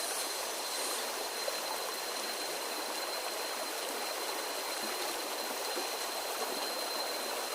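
A mossy river flows with a steady, even rushing hiss, continuous and unbroken, with no voices.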